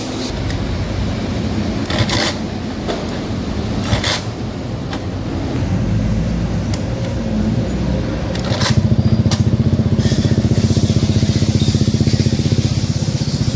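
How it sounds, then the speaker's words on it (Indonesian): Honda Beat FI scooter engine idling steadily after starting, a close, constant buzzing putter that becomes louder and fuller partway through, with no talking. "menyala mesinnya, sudah hidup"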